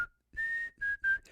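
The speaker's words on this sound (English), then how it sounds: "There's something about whistling." A person whistles three sustained tones separated by short pauses, clear and close with nothing else around them.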